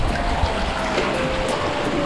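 Someone wades through a cold river, the water sloshing and churning in a continuous close, fairly loud wash with steady splashing throughout.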